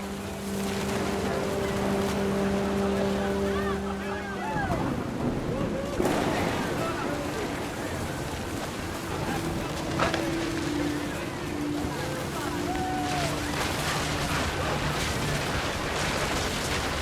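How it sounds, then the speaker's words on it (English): Heavy rain with rumbling thunder in the video game What Remains of Edith Finch, a dense steady downpour filling the scene with low rolls and a few sharper cracks throughout. "The rain came down in buckets then"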